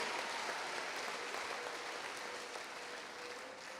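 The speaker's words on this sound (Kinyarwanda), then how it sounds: "Let's give a round of applause to our God." A church congregation applauding: dense, sustained clapping from many hands fills the space evenly, with no voices, easing off slightly toward the end.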